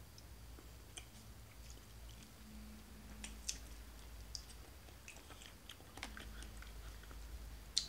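Soft, close chewing of Takao grapes from Yamagata, with scattered small wet bites and squishes over a quiet background, no talking.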